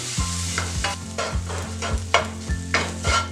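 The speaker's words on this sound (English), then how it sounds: "Now add curd into this and combine well for a minute." Curd being stirred into egg masala in a pan, with steady rhythmic scraping strokes of the spoon about every half second over a low sizzle, close and fairly loud with no talking.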